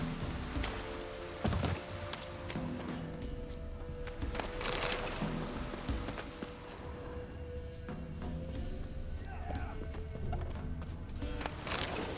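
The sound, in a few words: rain in a video game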